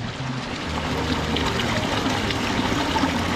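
Clean Himalayan river water flows and trickles steadily nearby along the riverside path near Kasol in Himachal Pradesh, a soft continuous babble with no voices.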